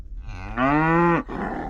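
A single cow in Montana lets out a long, loud moo close by, followed by a short breathy trailing sound.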